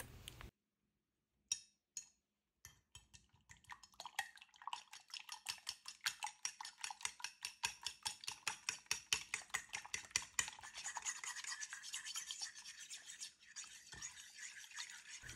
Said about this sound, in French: je casse mes 2 gros œufs et je les fouette directement à la fourchette